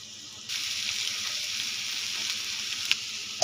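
Ridge gourd pieces hit hot oil in a pan, starting a sudden bright sizzle that keeps hissing steadily. A faint clink follows near the end.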